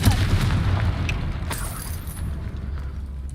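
A Confringo blast spell going off in the video game Hogwarts Legacy makes a loud, booming explosion with a rolling low rumble that holds steady for several seconds, with no voices over it.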